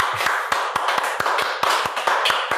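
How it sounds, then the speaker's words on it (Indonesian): A small group claps hands in a brisk, steady rhythm for a few seconds, sharp and close, with no speech over it. "tepuk tangan dulu."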